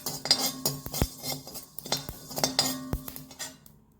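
Cumin seeds dry roasting in a hot pan for sambar powder, with repeated close metallic clinks and scraping taps of a spoon stirring against the pan, steady and rhythmic, no voices.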